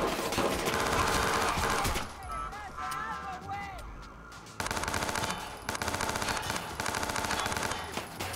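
Rapid bursts of video game gunfire in Watch Dogs 2, dense automatic shots for two seconds, a quieter gap with game sounds, then repeated clattering bursts resuming, fairly loud over background game audio.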